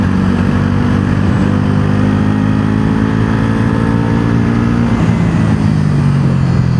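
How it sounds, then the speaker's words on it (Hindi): A Bajaj Pulsar NS400 motorcycle with a 373cc liquid-cooled DOHC four-stroke single-cylinder engine, running as a loud, steady drone with a low hum and a smooth, sustained tone throughout, close by and with no talk. "अब 373 सीसी का इंजन है बाइक में, liquid cooled DOHC 4 stroke single cylinder."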